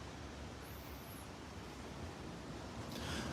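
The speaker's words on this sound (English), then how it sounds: "Still got some waves here along the coastline" Gentle ocean waves wash along a Florida coastline at Delnor-Wiggins beach on a breezy morning, a soft, steady broadband surf hiss with no distinct breaks, fairly faint and continuous.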